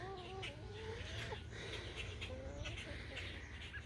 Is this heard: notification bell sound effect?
no